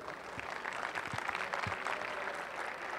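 An audience at an entrepreneurship conference applauds a departing speaker, a faint, distant and steady wash of clapping lasting a few seconds.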